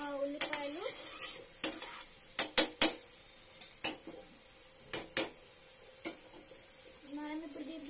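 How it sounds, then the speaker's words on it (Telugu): Onions cooked in a pan until golden, stirred with a utensil that clanks and scrapes loudly against the metal in irregular bursts over a soft sizzle, close by with no talk. "సో మొత్తం కంప్లీట్లీ ఎల్లో అయిపోయే వరకు మిక్స్ చేసుకోవాలి"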